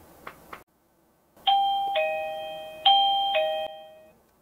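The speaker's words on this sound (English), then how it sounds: "If I hold my phone up and I hit the doorbell, watch what happens." A EUKI battery-powered doorbell chimes twice with clear two-tone ding-dong notes that ring out and decay, preceded by a couple of soft button clicks, loud and close with no talking.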